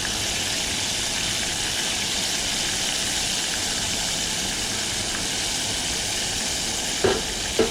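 Catfish frying in hot grease outdoors, giving a steady, dense sizzle that holds level throughout, with a couple of brief pops or knocks near the end.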